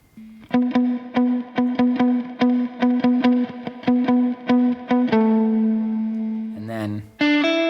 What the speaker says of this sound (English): we get into some very simple little plucky bits